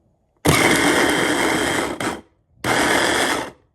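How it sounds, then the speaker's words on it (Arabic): Electric food chopper whirring loudly as it chops red peppers and tomatoes, two close bursts of steady motor noise separated by a brief pause, with no talking. "احط عليها قرنين فلفل احمر كده اللي انا مقطعاهم، حبه طماطم اللي احنا مقطعينهم الحلوين دولت، نحطهم في الكبه كده وهنضرب"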